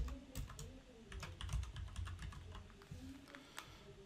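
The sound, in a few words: typing footer text on a computer keyboard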